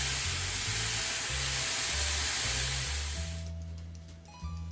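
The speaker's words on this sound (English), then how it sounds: "we are sauteing those mushrooms up" Mushrooms sauté in a little oil in a pan, making a loud, close, continuous sizzling hiss that softens and thins out over the last second.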